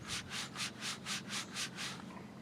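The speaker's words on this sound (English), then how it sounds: "Spray some more on there." Graffiti remover is sprayed onto the hood of a school bus in eight quick, rhythmic hissing squirts, soft and close, with no talking.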